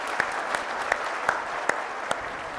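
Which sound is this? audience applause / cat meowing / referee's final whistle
audience applause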